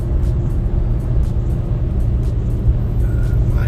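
A 2019 RAM 1500 Limited pickup truck driving on the road, with a steady low rumble of engine and tyre noise under a constant wash of road roar.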